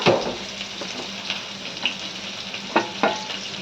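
Capsicum, potato and paneer fry in a home kitchen pan for a tiffin curry, a steady hiss of sizzling broken by the sharp clicks and scrapes of a stirring spoon. The sound is close and even, with no talking.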